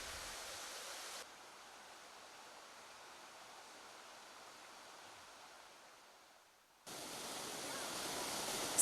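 Waterfalls pour down a mountain valley amid autumn foliage, a steady broad rushing roar that briefly drops to a softer, duller wash before returning full and bright, with no voices.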